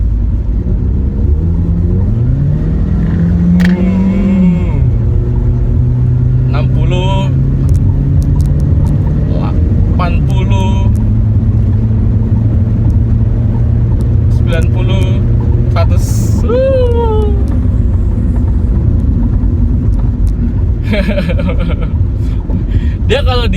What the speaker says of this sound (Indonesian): gue mau injek gasnya.